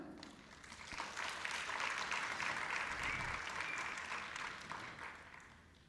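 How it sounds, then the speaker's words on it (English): A crowd at a Bharatanatyam arangetram claps enthusiastically, the applause swelling quickly, holding steady, then gradually tapering off. "So another big round of applause for everyone."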